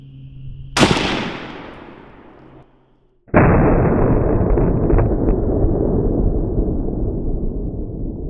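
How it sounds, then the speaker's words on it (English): M1 Garand rifle chambered in .30-06, one sharp loud gunshot with a short decaying tail, followed after a brief silence by a sustained broad noisy roar. "now we're gonna use the M1 Garand, chambered in 30-06."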